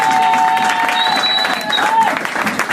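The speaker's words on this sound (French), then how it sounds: "Je croyais que tu allais acclamer très fort." A church congregation applauds and cheers during a French-language sermon, producing a dense, steady wash of clapping and crowd noise with raised voices mixed in.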